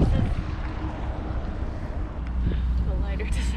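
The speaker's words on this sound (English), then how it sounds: "The lighter doesn't work outside because it's too windy." Strong wind sweeps across a boat outdoors while docking lines are being made, a steady low roar buffeting the microphone throughout, with faint voices in the background.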